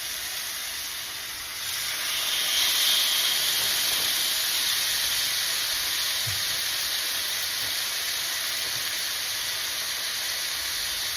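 Chicken shawarma pieces hitting a hot cast iron skillet, a loud steady sizzle and steamy hiss that swells after a quiet start and holds evenly, no talking.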